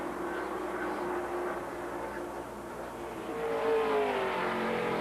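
A stock car leaves pit lane at Pocono during the 1992 Champion Spark Plug 500, its engine a steady loud roar that rises in pitch as it accelerates, with no one speaking.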